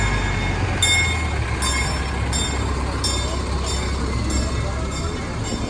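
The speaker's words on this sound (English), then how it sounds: "they have this bus-looking thing, but it's like a train that goes by." A train-like tour vehicle at Knott's Berry Farm rolls past with a steady rumble, rhythmic clicking and faint wheel squeal, while voices murmur in the background.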